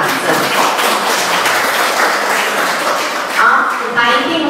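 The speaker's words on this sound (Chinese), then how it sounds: "我们祝福他，来大家掌声。" An audience at a seminar gathering in Muar, Johor, claps steadily, a dense wash of applause lasting the whole moment, with a voice faintly mixed in.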